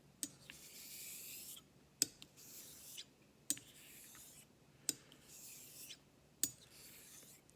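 A Dubl Duck Dwarf straight razor is honed on a Japanese natural stone with smooth slurry under very light pressure. The strokes make soft, steady rasping passes, each one ending in a sharp click as the blade turns, repeating at a regular rhythm.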